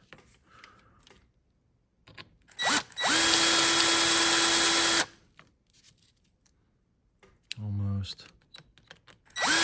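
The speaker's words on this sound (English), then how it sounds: "Gotta keep drilling." A power drill runs in one sustained whine for about two seconds while replacing stand-up target faces on a Gottlieb WaterWorld pinball machine, with brief clicks and short spurts around it and a voice speaking briefly.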